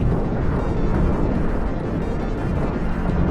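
A dense, rumbling roar of rocket and bomb explosions in the video game Solar Smash fills the clip, loud and continuous like a prolonged blast, with no voices over it.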